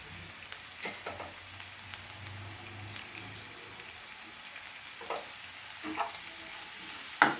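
Carrot and capsicum frying in oil in a pan, with a soft steady sizzle and occasional light stirring clinks and scrapes, fairly quiet and close with no talking.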